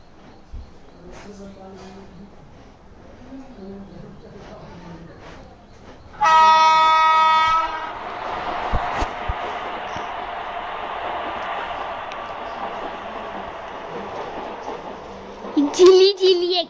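An Indian train heard from inside an AC coach: a long, loud horn blast sounds partway through over steady rail rumble, with children and other voices talking around it and a final clattering surge.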